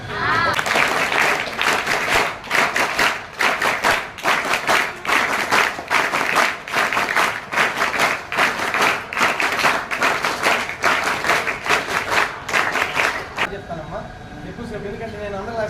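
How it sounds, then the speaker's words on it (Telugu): An audience at a school parents' meeting claps for the chief guest in a loud, rhythmic, patterned burst of many hands that continues steadily before stopping near the end. "మనం మన క్లాప్స్ వెరైటీ కొడతాం కదా చీఫ్ గెస్ట్కి"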